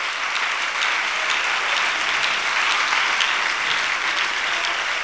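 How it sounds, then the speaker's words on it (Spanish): Church congregation applauding during a Spanish-language sermon, a dense, sustained wash of clapping from a large crowd, loud and even throughout. "Dele ese aplauso al Señor"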